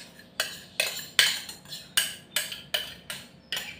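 Corn and avocado jelly dessert is being mixed in a bowl, with about nine evenly spaced scraping, clinking strokes of a utensil against the bowl. The strokes are steady, close and fairly quiet, with no talk.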